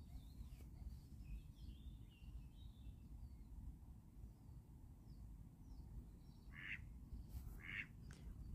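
A duck quacks outdoors in two short bursts near the end, over steady low rumbling background noise with faint chirps higher up.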